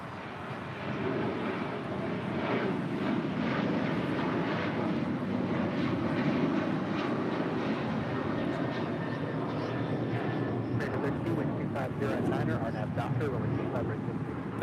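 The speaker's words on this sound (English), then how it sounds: "1352 departing to San Jose, Costa Rica on a 737-800" An Alaska Airlines Boeing 737-800 jet departs from LAX, its engines a sustained, heavy roar filling about fifteen seconds, with voices talking faintly underneath.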